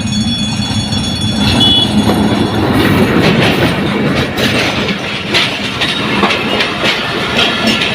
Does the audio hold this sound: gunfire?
no